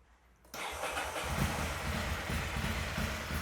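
Ducati Monster 696 motorcycle with a persistent fault starts after a brief quiet moment, then settles into a steady, loud, close idle rumble.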